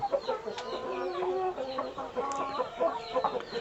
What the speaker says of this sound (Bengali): বড় একটা মুরগি এবং একটা মরগ দেখতে পাচ্ছি